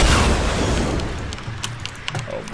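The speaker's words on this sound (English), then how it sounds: "He's shooting rockets at us now." A loud rocket explosion in a video game booms at the start, then decays into a rumbling tail with scattered pops and debris.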